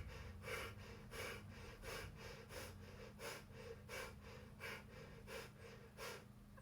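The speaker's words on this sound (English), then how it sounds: "Let's do 10 lovely big breaths." Deep, even yoga breaths during a seated Ashtanga sequence, about ten rhythmic inhales and exhales in steady succession, soft and close with no talking.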